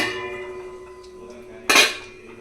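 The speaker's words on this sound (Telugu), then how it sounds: "కాబట్టి మూత పెట్టేసి మనం ఈ చికెన్ని ఉడికించుకుందాము" A lid set onto a pot of chicken cooking in a buttermilk curry, one short metallic clink near the end over a low, steady kitchen hum.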